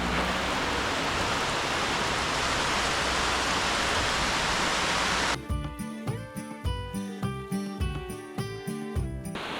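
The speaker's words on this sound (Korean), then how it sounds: "가려고 하니까 비가 이리 오네" Steady heavy rain pours down during a motorbike trip near Chiang Mai, Thailand, a dense continuous hiss for about five seconds, then cut short as sparse plucked musical notes take over.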